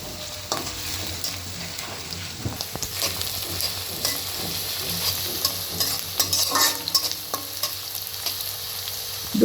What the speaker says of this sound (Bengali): পেঁয়াজ কুচি একটু ভেজে তার মধ্যে 7-8টি কাঁচামরিচ ফালি দিলাম।